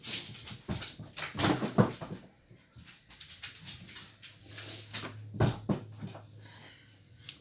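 A dog whimpers and whines indoors to be let out, several short high whimpers with soft shuffling and a steady low hum in the room, fairly close.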